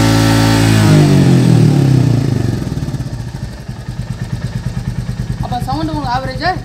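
A Royal Enfield Classic 350 motorcycle engine revs loudly up close, then drops into a fast, even thumping idle, with a voice talking briefly near the end.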